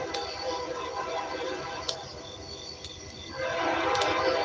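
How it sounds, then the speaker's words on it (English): A train rumbles past nearby with steady rolling noise and clanking rail sounds, growing louder toward the end. "I'll explain more after the train passes by enough for you guys to hear me again."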